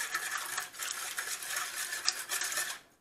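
Steady whisking and stirring of milk in a bowl for savory crêpe batter, a continuous close scraping swish with no pauses.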